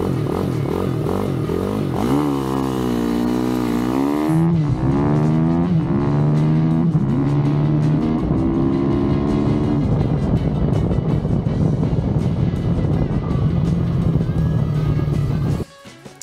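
A YCF pit bike with a 212 engine runs loud and close, revving up and down in rising and falling sweeps before settling into a steady high drone, then cutting off abruptly at the end.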